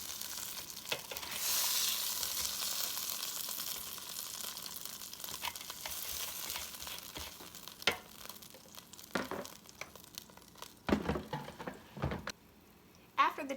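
A cheeseburger patty cooks in a Cook's Essentials 5.3-quart air fryer, giving a steady hiss and sizzle broken by a few sharp clatters and knocks near the end.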